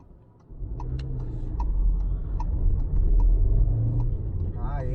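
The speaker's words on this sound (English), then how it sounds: "Yeah, that turbo wants to go." A 2022 VW Jetta 1.5T turbo with a manual gearbox accelerates with a low engine rumble that swells after a quiet start and holds steady, with faint regular ticks above it and a voice briefly at the end.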